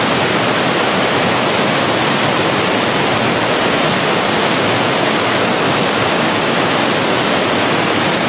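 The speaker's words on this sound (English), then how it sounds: "Next to Cascade Falls here, right here" Cascade Falls pours in a steady, loud, broadband roar of falling water, constant from start to finish with no voices over it.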